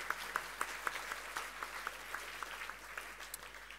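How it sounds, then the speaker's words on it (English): Sparse, faint applause from an audience at a heritage awards ceremony, honouring a nominee for community performance spaces in Sydney; individual claps stand out at a steady, thin rhythm, distant and quiet. "Give them a round of applause."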